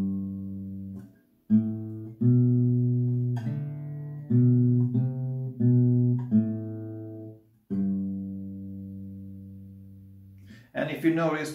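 Slow acoustic guitar picking of a song riff, single plucked notes and short phrases ringing out one after another, clear and close with no voice, ending in a brief scrape of strings.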